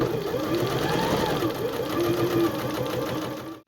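Janome JW8100 sewing machine running a regular straight stitch, a steady close whirring motor hum with rapid needle clatter that carries on unbroken for several seconds before stopping at the end.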